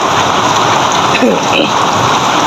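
Heavy rain pours down in Malaysia, a dense steady hiss from close by, with a vehicle passing faintly in the background.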